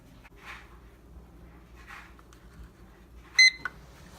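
An oven control panel gives a short, sharp electronic beep near the end, after soft rustles and quiet handling sounds in a kitchen.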